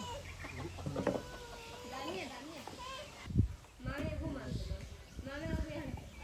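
Chickens in a coop cluck and murmur close by, with scattered squawks and shuffling, and people talk over them.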